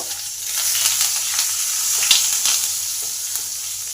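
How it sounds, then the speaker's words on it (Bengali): Asafoetida, curry leaves, green chilli and black cumin fry in hot oil for a peanut okra masala, giving a steady, close, moderately loud sizzle with faint crackles and no talking. "ওয়ান ফোর চামচ হিং আর বেশ কিছুটা কালি পাতা একটা শুভ লঙ্কা এই সমস্ত কিছুকে ভালো করে ভেজে নেব"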